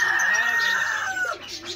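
A rooster gives a hoarse, drawn-out crowing call up close, lasting about two seconds and fading into rougher clucking noises at the end.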